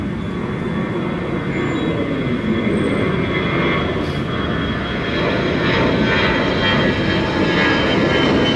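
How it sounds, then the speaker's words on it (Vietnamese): A Bamboo Airways Airbus A321 takes off from Tan Son Nhat airport, its jet engines producing a loud, sustained roar that stays steady and broad for several seconds. "chúng ta đang có một chiếc Airbus A321 của Bamboo Airways đã được lệnh cất cánh rời khỏi sân bay Tân Sơn Nhất"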